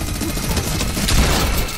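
Gunfire in Fortnite plays as a dense, continuous wash of rapid shots and crashing impacts, loud and unbroken for under two seconds, with no talking.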